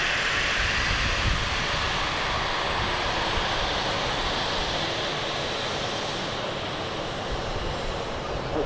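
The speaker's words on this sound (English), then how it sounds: "As the aircraft taxis past, you can see the back of it, the registration." An aircraft taxiing past at Manchester Airport produces a loud, continuous broadband jet roar that holds steady throughout, close to the listener, with no talking.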